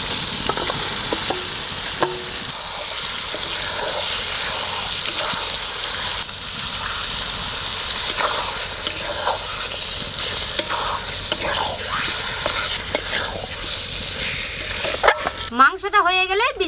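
Marinated chicken frying with spices in a pot for chicken biryani, a loud continuous sizzle with stirring scrapes and clatter, ending in a brief burst of different noise.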